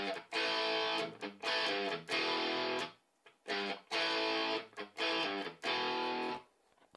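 Distorted electric guitar rhythm chords with a plate reverb effect from the GTRS app ring out in short choppy bursts, grouped into two similar phrases separated by a brief pause, loud and clear with no voice.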